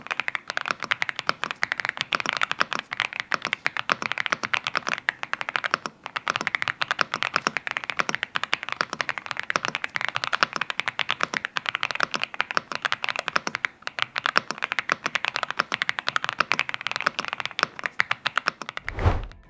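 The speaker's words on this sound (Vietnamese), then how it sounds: "bây giờ thì tới phần mình sẽ kết nối với máy tính và trải nghiệm gõ thử cho các bạn xem nhé" Rapid, steady typing on an Aula F99 mechanical keyboard, close and fairly loud, with dense clacking keystrokes running continuously for about twenty seconds before stopping, no talking.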